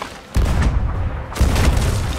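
Ship cannons fire in a Sea of Thieves naval battle, a loud booming blast followed by a second heavy boom about a second later, both with rumbling low tails.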